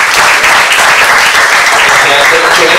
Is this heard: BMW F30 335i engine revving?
no